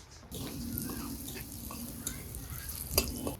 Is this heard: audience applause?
no